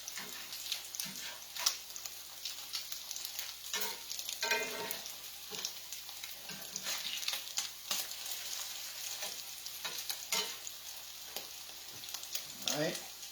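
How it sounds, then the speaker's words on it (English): Salmon patties fry in a pan with a steady, close sizzle and crackle, broken by occasional small pops and faint ticks as the patties brown, with no talk over it. "I think you can see it cooking there, frying."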